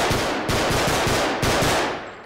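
Automatic weapon fire rattles in a realistic first-person shooter game: rapid, loud bursts of gunshots in several close volleys with brief gaps between them, no talking.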